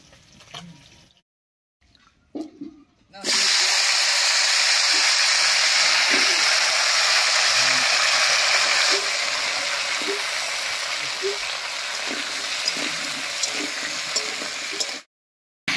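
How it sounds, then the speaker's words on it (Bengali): Cubed papaya and potato hit oil left over from frying river fish, setting off an abrupt loud sizzle after a few quiet seconds that roars steadily and then cuts off. "এবার মাছ ভাজার এই তেলের মধ্যেই পেঁপে আর আলুটা দিয়ে দেবো।"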